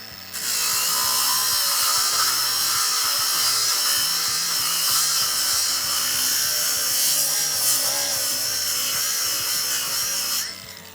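A Procraft AG125B cordless angle grinder spins up at its lowest speed setting, giving a steady, loud, high whine that holds close by for about ten seconds before cutting off, with no talking.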